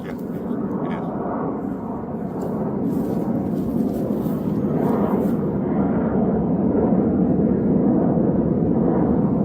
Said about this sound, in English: Once again, I start to record, and there it is. Aircraft.